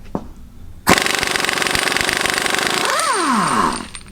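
A Matco 1/2-inch battery impact wrench hammers in a rapid, steady rattling burst at close range, with its pitch sweeping down near the end before it stops.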